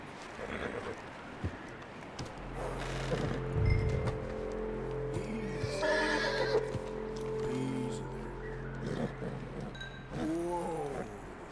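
A horse neighs and whinnies repeatedly in Red Dead Redemption 2, with long whinnies and snorts over hoof clops and an ambient outdoor bed, fairly close and clear.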